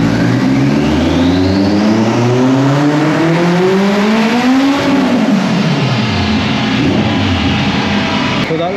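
A Honda Civic EG drag car's engine revs hard and loud during a drag strip run, its pitch climbing through successive gear shifts in rising sweeps, then dropping and easing off.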